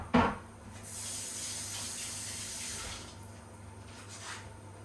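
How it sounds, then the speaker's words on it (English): Tap water runs steadily into a sink while egg is rinsed off hands during brownie baking, a short knock at the start, then a broad hiss that eases and trails off near the end. "Just rinse my hands, get that egg off of it."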